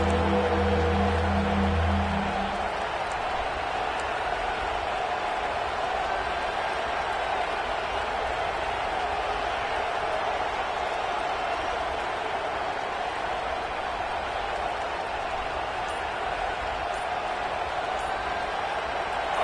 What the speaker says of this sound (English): Neyland Stadium, alive, a cauldron of orange noise on 3rd down.